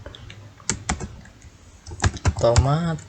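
Typing on a computer keyboard, with a few sharp separate key clicks and then a quick run of keystrokes, close up as someone speaks over them.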